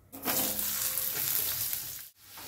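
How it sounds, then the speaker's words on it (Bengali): Potato pieces fry in hot oil, with a loud, steady sizzle that starts suddenly, stays strong, and cuts off briefly near the end before resuming. "আলুগুলো আগে একটু ভাজবো।"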